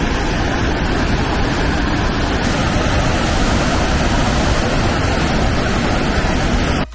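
A waterfall in a Croatian national park during winter roars as a steady, dense rush of water, loud and close, with no breaks and no voices.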